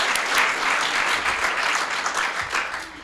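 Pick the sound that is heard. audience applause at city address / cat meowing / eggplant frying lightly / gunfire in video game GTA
audience applause at city address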